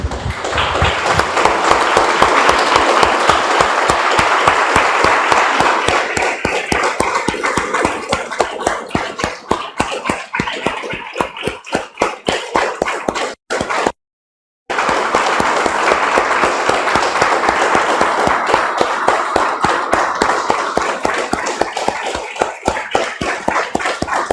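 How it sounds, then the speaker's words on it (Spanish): A church congregation claps together in a fast, steady rhythm, loud and sustained, with a short break midway before the clapping resumes. "Damos un aplauso, hermanos, al Señor."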